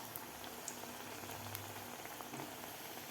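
Bharda vada made from coarse lentil flour frying in hot oil, a quiet, steady bubbling fizz with faint scattered pops and no talking.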